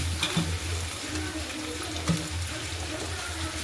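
Dried mutton pieces are swished and rinsed in hot water, giving steady close sloshing and splashing with a couple of sharper splashes.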